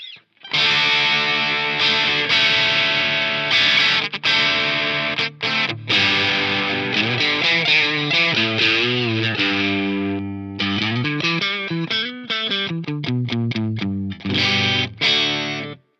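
A loud, sustained electric guitar through a Walrus Audio 385 MkII overdrive pedal on the bridge pickup plays bright, gritty chords and bent notes, with short pauses between phrases.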